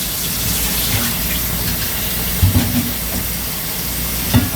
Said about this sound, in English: So rinse them in cold water.